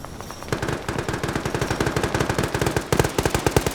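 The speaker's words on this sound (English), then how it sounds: "Now you're seeing machine gunners opening up as Op 4 elements are trying to reposition here to set up a new set of defenses." Machine gun fire in a multiplayer PvP video game battle: loud, rapid bursts of automatic shots in a fast, steady rhythm, starting after a brief lull and continuing with a heavier burst near the end, with no talking.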